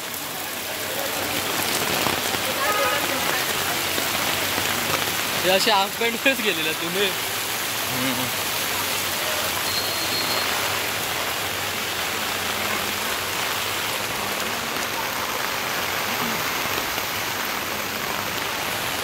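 First monsoon rain pours steadily over flooded streets in Wadala, Mumbai, a dense continuous hiss heard nearby, with people talking over it and a short vehicle-like tone passing midway.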